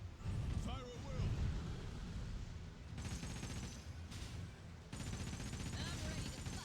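Ship cannons in the game Like A Dragon: Pirate Yakuza boom in a dense, rumbling barrage of gunfire and explosions, loud and continuous, with voices calling out over the battle.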